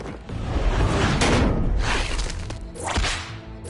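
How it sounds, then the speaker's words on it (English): A whip lashes through the air in a few sharp swishing cracks with loud broadband swoops, close and unaccompanied by talk. "Oh no, you got the whip out now."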